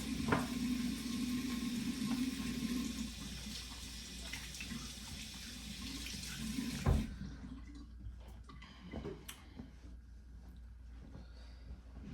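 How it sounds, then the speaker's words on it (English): A bathroom tap runs steadily as hands are washed, giving a close continuous splashing hiss that stops partway through and leaves faint drips and handling noises. "Wash my hands."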